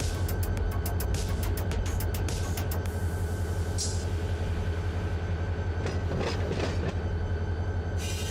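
Railway wagons rolling through a yard past switches in the Run 8 train simulator game, a steady low rumble with rhythmic clicks early on and brief metallic squeals later, continuous and fairly close.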